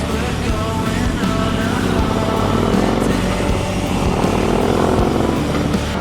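Bagger motorcycle engine running steadily and loudly up close as the bike sets off for a ride, a continuous throaty rumble with no voices over it.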